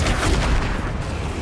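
Spell explosions in Hogwarts Legacy: a dense, continuous roar of booming blasts and rumbling impacts, loud and close, with no clear talk.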